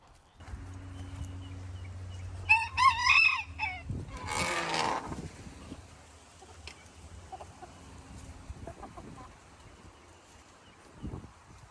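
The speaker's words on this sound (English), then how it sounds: "I'll show you a video of letting the chickens out" Chickens and a rooster in a backyard coop as the birds are let out: a close burst of clucking and what sounds like a crow, then a rush of flapping or scuffling, followed by quieter scattered clucks.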